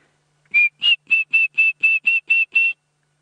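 A red-crested korhaan calling out in the open, a series of nine clear, evenly spaced whistled notes that rise slightly in pitch, loud and close against silence.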